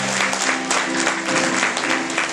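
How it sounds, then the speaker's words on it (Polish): Warm applause at a rural award ceremony in Chorzelów, Gmina Mielec, dense clapping from a crowd that holds steady throughout, with a voice faintly audible beneath. "Gorące brawa!"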